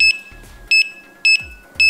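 Four short, high electronic beeps from an Alfawise Delta A10 3D printer, spaced evenly apart, each sharp and clear against a quiet background.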